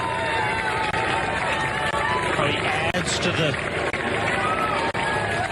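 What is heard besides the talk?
roadside crowd cheering runners near the Berlin Marathon finish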